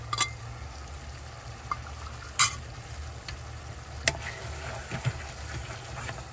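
Pork ribs with lemongrass and makrut lime leaves get stirred in a pan. A soft, low sizzle runs steadily with a few sharp scrapes and clicks of the utensil scattered through.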